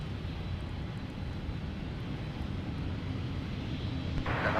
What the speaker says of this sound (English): And more arrival fun with the Airbus A220